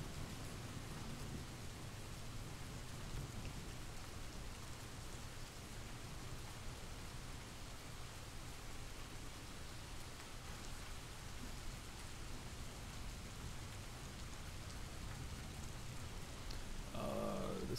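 Steady recorded rain playing from an ambient rain website, a dense even hiss of falling drops holding at a constant level throughout, with a slight rise near the end.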